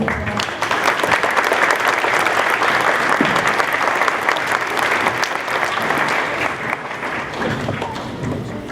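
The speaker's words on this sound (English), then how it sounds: "So let's give Mr. Furness, Wayne, and Dave a big round of applause." A school audience at an elementary Veterans Day assembly breaks into loud, sustained applause, dense clapping holding steady throughout before tapering slightly at the end.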